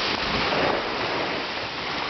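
Waves wash steadily onto a beach near Bunbury, Australia, a continuous close rush of surf with some wind buffeting the microphone and no voices.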